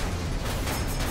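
An explosion in the video game Copy Kitty, heard as a dense, steady burst of low rumbling noise that fills the whole short moment at full loudness, with no talk over it.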